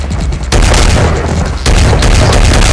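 A pump-action shotgun fires twice, each blast loud and close, a sharp full-spectrum boom that rings out before the next.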